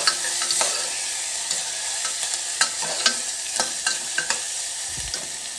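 Onions fry in oil in a pan with a steady bright sizzle, broken by a series of sharp scraping and tapping stir strokes at irregular intervals and a low thump near the end.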